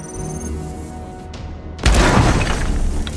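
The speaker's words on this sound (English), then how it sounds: "That's quite a lovely looking explosion." A sharp shattering blast goes off midway through a Warhammer 40,000: Chaos Gate - Daemonhunters battle, a brief hush followed by a loud crash with debris-like crackle trailing off.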